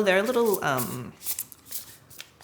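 A tarot deck with a slightly slippery finish is riffled and shuffled nearby in quick crisp bursts of card flutter, while a person speaks over the opening second.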